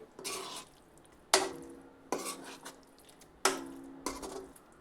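A spoon stirs a dry cabbage Manchurian mixture in a pan just after vinegar goes in, making four sharp, close scraping clinks at uneven intervals with quiet gaps between.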